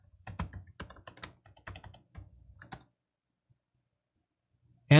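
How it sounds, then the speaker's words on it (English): Password being typed on a computer keyboard for an SSH prompt: a quick run of close, crisp key clicks for under three seconds, then near silence, with a short noise at the very end. "I'll type in the password."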